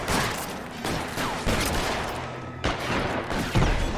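Rapid bursts of gunfire in the video game L.A. Noire, loud and dense, with repeated shots and volleys running throughout.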